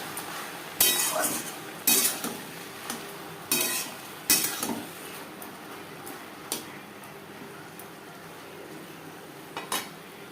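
Okra with green chillies stirred in a pan, cooked without garlic, onion or spices: intermittent scraping and clinking of a spatula against the metal pan, a handful of sharp knocks in the first half, then quieter occasional taps.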